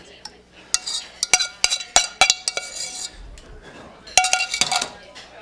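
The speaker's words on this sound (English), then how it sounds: "And just go whisking slowly. I like to beat the eggs up a little bit first." A chef whisks eggs in a bowl during a cooking demonstration. The whisk makes quick, irregular metallic clinks and taps against the bowl, coming in close clusters with short pauses between them.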